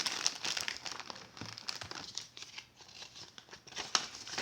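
Paper packing around a One Piece figure crinkles and rustles in short, close bursts as it is handled during unboxing, fairly quiet and with no talking.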